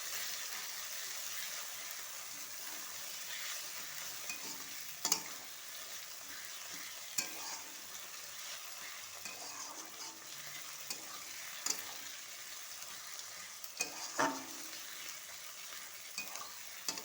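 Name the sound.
garlic paste frying and being stirred in pan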